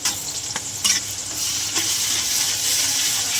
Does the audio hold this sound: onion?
yes